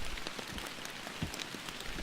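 Steady rain pattering on the surface of Emerald Lake in the Fishing Planet video game, a dense continuous hiss with scattered drop ticks throughout, no voices.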